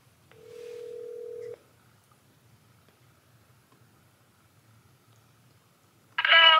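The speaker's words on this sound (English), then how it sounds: "It's ringing." A single steady electronic phone ring tone sounds for about a second, then silence, followed by a brief burst of bright tonal sound at the end.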